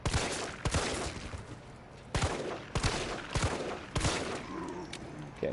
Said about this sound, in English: I'll just shoot you normal